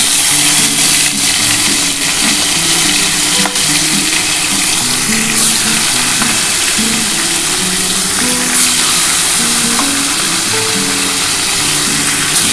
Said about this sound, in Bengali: বন্ধুরা আমি চারটে চারটে করে মাছ ভেজে নিচ্ছি